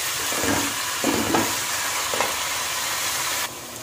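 Vegetables for veg fried rice stir-fry in a hot pan with a steady, loud, continuous sizzle and a few soft stirring scrapes. The hiss drops noticeably near the end.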